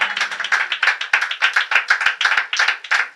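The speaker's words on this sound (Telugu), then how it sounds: "నమ్మిన వారు గట్టిగా చప్పట్లు కొట్టండి" A church congregation at a Telugu Christian service claps loudly and steadily in a dense, rhythmic burst of many hands, close and continuous with no speech over it.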